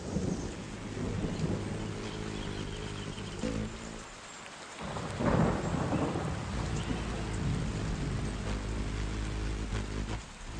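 Steady heavy rain with rumbling thunder, a dense wash of drops throughout, a brief dip and then a louder roll of thunder midway, with no voices.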